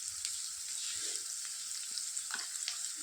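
Onions fry in a pan with tamarind and salt and are stirred, giving a steady soft hiss with a few light scraping clicks of the spoon at close range. No one talks.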